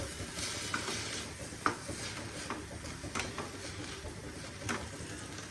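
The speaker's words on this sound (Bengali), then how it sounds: "তো এটা দিয়ে এখন ভালো করে এটারে নাড়াচাড়া করব" Leafy greens are stirred in a frying pan for a chicken dish, soft scraping strokes and light clinks repeating over a low steady sizzle, fairly quiet and without talk.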